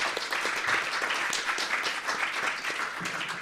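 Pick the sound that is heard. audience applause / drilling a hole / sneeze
audience applause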